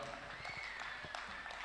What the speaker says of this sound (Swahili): Ongeza makofi kwa mtu aliyenisikia. Ongeza tu makofi kwa mtu wa pili yake mahali pale.